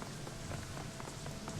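Rain falls in Shadowrun Hong Kong, a continuous hiss of drops pattering on surfaces with scattered small ticks, steady and moderately quiet throughout.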